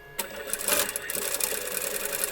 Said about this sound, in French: Et vous allez coudre tout simplement.